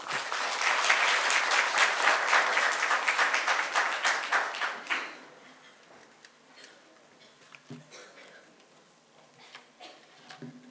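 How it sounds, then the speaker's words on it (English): A conference audience at an event with Japanese delegates breaks into loud, dense applause for about five seconds, then it fades out and a hushed room follows with faint, scattered speech. "A big round of applause for her."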